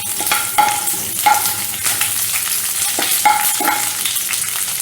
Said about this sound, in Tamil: கருவேப்பிலை பொரிஞ்சிடுச்சு.